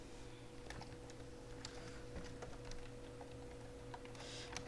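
Quick, light keystrokes on a computer keyboard tap out irregular bursts of typing at close range, steady and fairly quiet with no voice over them.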